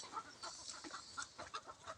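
Farmyard chickens and a rooster clucking softly while feeding on scattered rice and kitchen scraps, a dense patter of short, faint clucks and pecking noises close by, with no talk.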